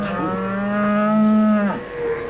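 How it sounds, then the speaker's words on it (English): A cow gives one long, loud, close moo with a steady pitch, followed by a shorter lower call at the end. "Oh, it was a cow that went moo, Bungle."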